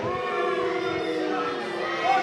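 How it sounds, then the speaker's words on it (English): Dense wrestling crowd at a WrestleMax STL show cheering for Davey Vega, a loud sustained roar of many voices with rhythmic chanting emerging, filling the hall without a break. "And this crowd letting Davey Vega know where they stand."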